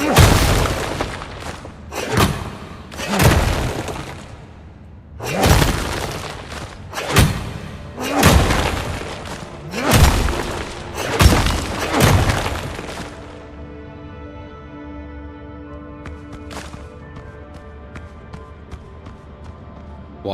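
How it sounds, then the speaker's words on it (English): A pickaxe strikes a tree stump again and again in the pirate survival video game Windrose, about nine heavy crunching thuds at a steady, unhurried pace, then the blows stop and faint ringing tones are left. "hit that with the pickaxe"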